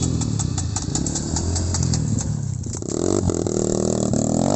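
A trail motorcycle engine revs hard and continuously as the rider throttles up a steep three-tier off-road climb, loud and close, with the roar dipping briefly before surging again.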